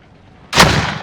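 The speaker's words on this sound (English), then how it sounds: "Rocket away!" A rocket launched in a first-person shooter video game, a sudden loud blast after a brief quiet, trailing off in a rushing roar.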